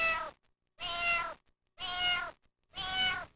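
A cat meows four times in a slow, even rhythm, each call long and clear with short silences between them, close and alone with no other sounds.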